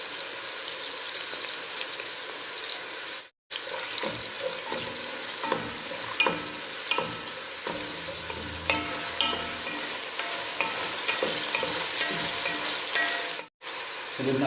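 Chopped garlic sizzles in hot oil in a pan as it is sautéed for rice-stick pancit, giving a steady, fairly quiet hiss with occasional scrapes and stirs and two brief drops to silence.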